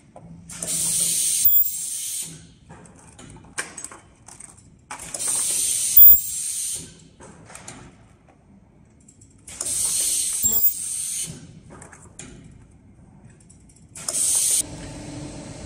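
An automatic rotary ultrasonic clamshell welding machine with two cavities runs in repeating cycles, loud hissing bursts from the welding alternating with mechanical clunks, clicks and ratcheting indexing sounds, close by, with no talking.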